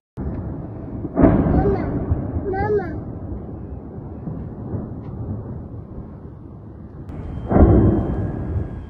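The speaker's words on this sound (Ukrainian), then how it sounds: "У Києві лунала серія вибухів." Two heavy, booming explosion blasts in Kyiv during a missile attack, one early and one near the end, with a low rumbling roar sustained between them.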